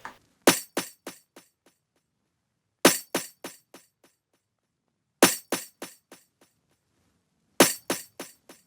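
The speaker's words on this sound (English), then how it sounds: "next up we got the snare, but it's two sounds layered together" Two snare drum samples layered together give a thick, crackly hit repeated in four bursts, each followed by quickly fading echoes, with silent gaps between; loud, bright and close.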